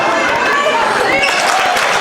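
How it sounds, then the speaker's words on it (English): Loud crowd noise at a girls' varsity high school basketball game against Africentric, spectators voicing displeasure at a referee's call, a steady wash of shouting and chatter with sneaker squeaks and bounces underneath. "crowd is making sure the refs know their displeasure with that pass call"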